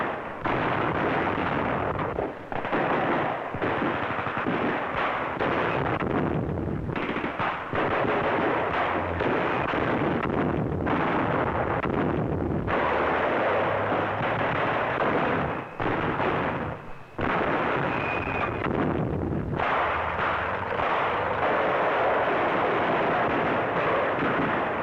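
Heavy infantry weapons, assault guns and tanks firing in a 1942 German wartime newsreel battle: dense, continuous rumbling blasts and crackling gunfire, loud and sustained, with brief gaps between bursts.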